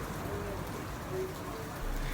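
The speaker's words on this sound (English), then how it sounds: "soon it started to rain, like hard" Hard rain pours down in the town of Guanajuato, a dense, steady hiss of drops hitting surfaces that fills the whole moment without letup.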